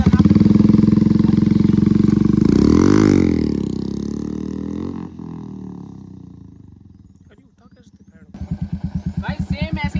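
Royal Enfield Meteor 350 motorcycle engine revving hard and loud during a wheelie attempt, a roaring rise that falls away, then a throbbing idle returns near the end.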